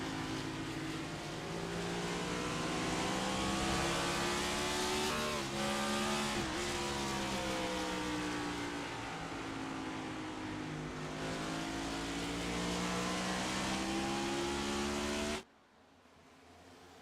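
Race cars in a stock car racing game at Richmond roar past in a steady, loud engine drone with layered pitches that shift as the cars accelerate, running unbroken for most of the stretch before cutting off abruptly near the end.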